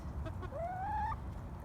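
A young rooster in a coop with pine shavings gives a single rising, drawn-out call lasting about half a second, close and clear over low background rumble.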